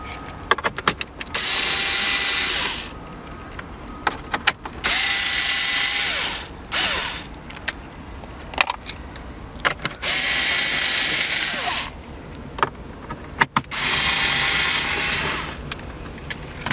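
A power tool drives screws out of a Cadillac CUE touch-screen radio unit. It whirs in about five separate bursts, each a second or two long, with clicks and short handling noises between them.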